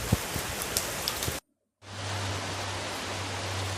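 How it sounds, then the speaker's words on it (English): Steady rain pours down in a continuous hiss, cutting out briefly to silence and then resuming with a low hum underneath. "And I woke up to this beautiful, amazing rain from nature."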